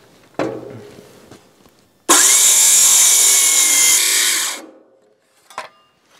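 A circular skill saw cuts a birdsmouth into a wooden roof rafter for a chicken coop: a loud, close whine bursts in and holds for about two seconds before winding down, framed by a few knocks and handling noises.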